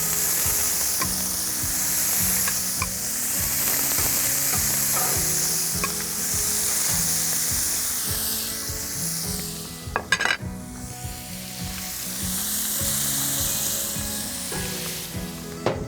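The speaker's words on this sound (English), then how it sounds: "I'm gonna go ahead and throw that butter in there." Butter sizzling steadily in a hot oiled pan with small blackened panfish fillets, a continuous loud fry with occasional utensil scrapes and stirring clatter, no talking.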